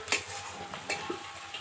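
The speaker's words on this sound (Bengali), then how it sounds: "আদা বাটা, রসুন বাটা, এটাকেও খুব ভালো করে ভেজে নেব।" Ginger and garlic paste fries in a pan for a crab curry, a quiet continuous sizzle broken by a few sharp stirring scrapes and spoon taps over under two seconds.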